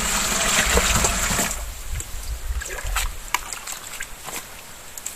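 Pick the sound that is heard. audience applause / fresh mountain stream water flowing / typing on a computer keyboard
fresh mountain stream water flowing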